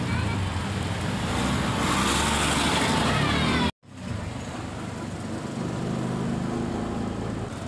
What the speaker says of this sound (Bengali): এবার অটোয় চড়ে চললাম করুণাময়ীতে বইমেলার মাঠে।